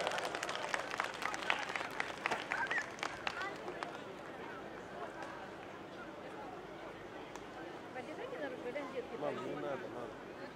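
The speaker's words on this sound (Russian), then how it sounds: "Аплодисменты, друзья," A crowd at the Zvenigorod City Day celebration applauds the vocal-pop ensemble Studio TMT. Lively clapping fills the first few seconds, then fades into outdoor crowd murmur with people talking.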